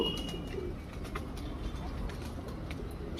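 Pigeons coo softly at Allalasandra Lake Park in Yelahanka, Bangalore, with faint, low, repeated calls over steady outdoor ambience and a few light chirps.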